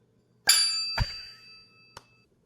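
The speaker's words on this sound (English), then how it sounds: "you ring the bell" A little silver bell atop a Clase Azul tequila bottle rings, three bright metallic dings spaced about half a second apart with lingering ringing tones, close and clear with no talk.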